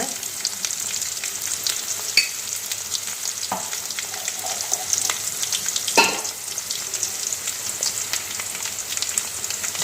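Spices sizzle steadily in hot oil as turmeric and asafoetida go into a tempering for horse gram rice, with a few stirring scrapes around the middle, close and continuous.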